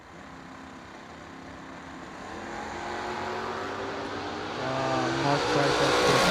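Drag racing cars, including a Mustang, accelerate hard down the strip at a fall drag meet, their engine roar building steadily louder with rising pitch as they pull away.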